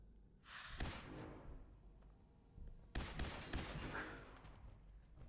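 Gunshots from an automatic Institute pistol in Fallout 4, two sharp bursts of cracking fire several seconds apart, each trailing into a brief rattling decay, fairly quiet and with no talking.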